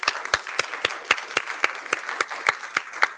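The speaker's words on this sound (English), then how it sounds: "can we just give a round of applause for both our speakers?" A small audience at an IETF human rights protocol session applauds its speakers, with a few distinct, regularly spaced claps standing out close by over a softer patter of hands from the room.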